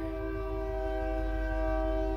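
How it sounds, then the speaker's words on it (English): A train passes by near railroad tracks beside a home, its horn blaring in a loud, sustained, steady chord over the low rumble of the cars. "Just to make this video worse, now there's a train."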